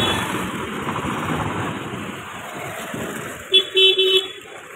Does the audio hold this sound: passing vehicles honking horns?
yes